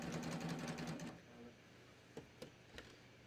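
A sewing machine running a cover hem on a tee whirs rapidly at close range for about a second, then stops, leaving a quiet room with a few soft knocks and clicks.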